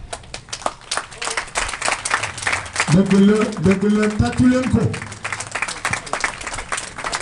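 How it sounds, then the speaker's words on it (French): An audience at an academic award ceremony claps in a sustained round, with a voice speaking and some chatter mixed in. "vous demander des applaudissements nourris à Madame Sen Safia Afret"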